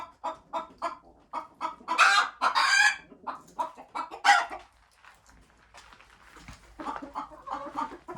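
A rooster crows repeatedly among steady clucking hens in a chicken coop, loud and close, with bursts of calls rising and falling over several seconds.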